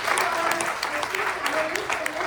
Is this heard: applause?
yes